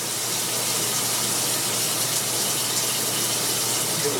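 Cold water gushes steadily from a utility sink faucet, a constant broadband rush without pause or change in level.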